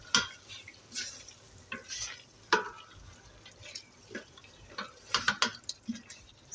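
Boiled pumpkin being stirred into a chicken curry in a pot, with intermittent wet scrapes and clinks of a spoon against the vessel, becoming more rapid near the end, close and fairly quiet, no speech.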